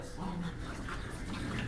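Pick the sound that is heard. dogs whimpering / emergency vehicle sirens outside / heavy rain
dogs whimpering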